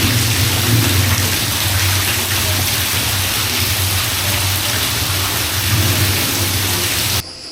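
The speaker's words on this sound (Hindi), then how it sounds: "यहाँ पे बिजली कड़क रही थी और पानी गिर रहा था।" Rain effect in a forest-at-night exhibit at the Jim Corbett Museum, Dhangarhi: steady, loud, hissing downpour with a low rumble throughout, cutting off abruptly near the end.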